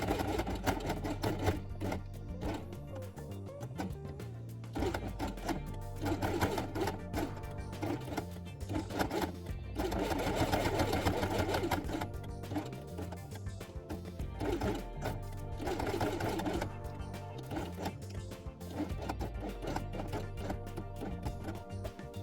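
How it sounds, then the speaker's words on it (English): A sewing machine stitches along the edge of fabric with white thread for a doll house quiet book page, a steady mechanical whir running through most of the stretch, close and fairly loud, with brief pauses. "sew along the edge with white thread"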